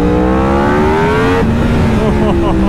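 A high-powered motorcycle revs hard at full throttle while being ridden in Thailand, its engine pitch climbing in a sustained, close, loud wail that shifts gear midway and keeps screaming upward.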